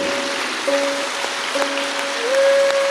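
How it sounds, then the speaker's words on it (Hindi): An assembled crowd applauds at a Vihangam Yoga centenary celebration in Uttar Pradesh, a steady hiss of clapping laid over a sustained held musical tone that swells slightly near the end. "एक बार सभी एक दूसरे के उत्साहवर्धन में तालियों की गड़गड़ाहट करें।"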